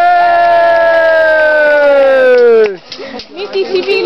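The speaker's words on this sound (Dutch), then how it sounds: "Juichen!" A loud, drawn-out group cheer at a ski championship celebration in Obermaiselstein-Bolsterlang holds one strong tone that slides slowly downward for nearly three seconds. It then breaks off into scattered, excited chatter and shouts.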